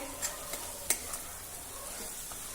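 Spices with kasuri methi and kitchen king masala being stirred and sautéed in a pan for paneer bhurji, a steady faint sizzle broken by a few soft spoon scrapes and clinks, with no talking.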